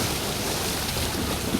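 Strong waves stirred up by monsoon rains after a typhoon churn and surge in a continuous loud wash, mixed with wind buffeting, no voices.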